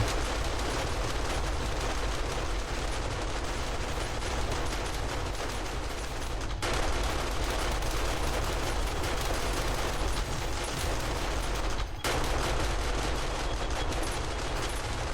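Dense, continuous automatic gunfire from defensive turrets in the video game 7 Days to Die rattles loudly and without pause, with only two brief breaks in the barrage.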